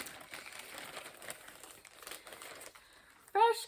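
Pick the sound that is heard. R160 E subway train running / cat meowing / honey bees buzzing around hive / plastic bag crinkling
plastic bag crinkling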